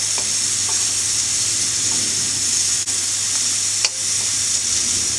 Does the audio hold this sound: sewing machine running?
no